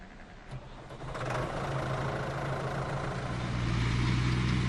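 A big blue tractor's engine turns over and settles into a low, steady idle, a faint rumble that builds slightly and holds throughout.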